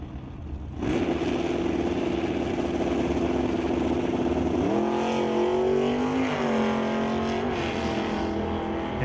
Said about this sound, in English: And that brings up Jason Mercer, driving Kevin McCauley's little Malibu wagon, taking on Dave Jung in the 96 Camaro